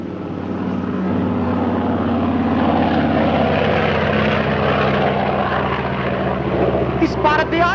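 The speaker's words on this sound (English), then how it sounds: "Star my foot? That's a plane." A propeller airplane drones overhead, a steady loud engine hum that builds and holds throughout, with voices briefly heard near the end.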